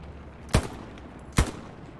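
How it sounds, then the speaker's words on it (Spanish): Two sharp, loud gunshots ring out about a second apart in the World War II shooter game Hell Let Loose, each with a short echoing tail. "Bueno, y esos tiros."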